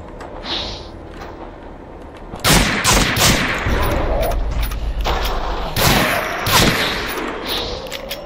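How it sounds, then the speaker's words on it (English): Auto shotgun blasts ring out in the Doom mod WolfenDoom Blade of Agony, several heavy booming shots in quick succession with echoing tails, loud and close. "Hey, look, a shotgun. Nice. An auto shotgun."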